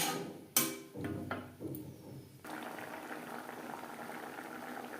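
Tomato chutney on a high gas flame: a few clattering knocks of pans and utensils first, then water added and a steady close bubbling boil that continues to the end.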